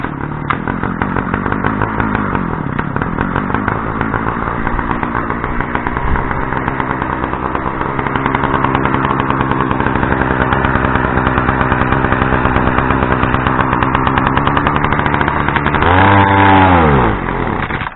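A small two-stroke petrol brush cutter engine runs steadily and loudly throughout from cold, with a sharp rev near the end before it settles back.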